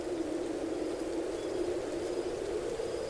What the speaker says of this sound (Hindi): तीव्र वेग से शुरू हुई तूफानी बारिश